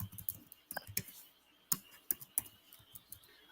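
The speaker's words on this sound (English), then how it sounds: "actually typing out my email in private chat" Typing an email on a computer keyboard, irregular close clicks and taps in quick bursts with short pauses between them.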